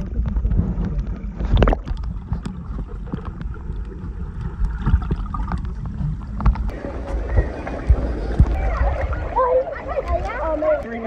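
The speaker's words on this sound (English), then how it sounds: "We're actively under the water now." A submerged iPhone XR records underwater in a swimming pool, giving muffled, low rumbling and sloshing with bubbly gurgles and occasional knocks, while a voice talks faintly above.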